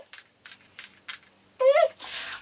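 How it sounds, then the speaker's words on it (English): Urban Decay All Nighter makeup setting spray misted onto a face: a short, close hissing burst that trails off softly after a few quiet light sounds. "I'm obsessed with setting spray."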